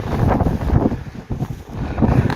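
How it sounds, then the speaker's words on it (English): Outdoor wind buffeting a microphone, producing a close, uneven rumbling roar that swells and dips for a couple of seconds. "Wind's blowing pretty good."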